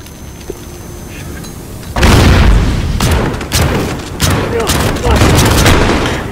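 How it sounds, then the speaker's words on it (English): Flashbang grenades go off in Call of Duty: Modern Warfare, with a loud, sudden burst after a quieter stretch, then a run of sharp, heavy bangs over dense battle noise. "Keep going with the flashbangs."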